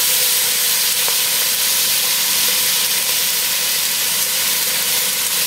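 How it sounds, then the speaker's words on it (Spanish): Cuttlefish pieces and tomato sofrito frying in olive oil in a restaurant kitchen, a loud, steady sizzling hiss that runs unbroken with no talk. "sofreímos los tacos de sepia y hacemos el sofrito añadiendo ya también el tomate"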